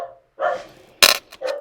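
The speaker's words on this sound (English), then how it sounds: "Sorry about the dog barking." A dog barks a few times close by, short gruff woofs with a sharp burst in the middle, no talking.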